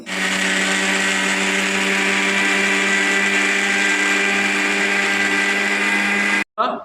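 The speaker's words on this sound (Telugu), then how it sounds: "ఇవన్నీ వేసి మిక్సీలో వేసి మెత్తగా గ్రైండ్ పట్టుకోవాలి" A kitchen mixer grinder runs loud and steady, whirring as it grinds roasted gram, green chillies, tamarind and cumin into peanut chutney for about six seconds, then cuts off briefly before a short restart.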